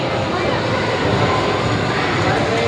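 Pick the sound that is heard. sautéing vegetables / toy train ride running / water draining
toy train ride running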